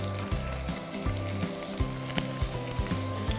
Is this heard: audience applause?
no